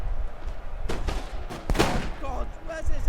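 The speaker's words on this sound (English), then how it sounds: "He's shooting into the back of his own units with riflemen." Musket fire from riflemen in the video game Napoleon: Total War, a ragged volley of crackling shots amid battle noise, with a voice talking partway through.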